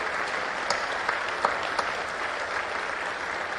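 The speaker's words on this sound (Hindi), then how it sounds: "तालियां जरा जोरदार से" Audience at a Hunar Haat crafts fair inauguration giving a standing ovation, a steady crowd of clapping hands with a few sharper individual claps standing out near the start.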